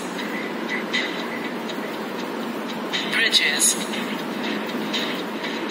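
Trains running on parallel railroad tracks, a continuous rolling rumble with rhythmic wheel clatter and a brief metallic squeal, while a voice speaks over it.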